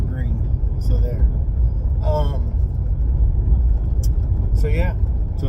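Inside a running green truck, a steady low engine rumble and road drone fill the cab continuously while a person talks over it.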